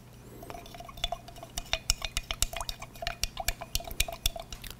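Potassium silicate stain coating liquid is diluted on-site at a building, giving a steady run of light drips, splashes and glassy clinks against a low background hum, close by and fairly quiet, with no voices.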